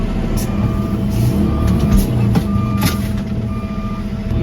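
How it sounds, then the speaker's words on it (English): A 2019 Kenworth dump truck reverses with a loud repeating back-up beeper over a heavy diesel engine rumble, jerking to shake leftover dirt from the bed; close and continuous. "So I reversed, so I'm shaking out the dirt, that leftover dirt."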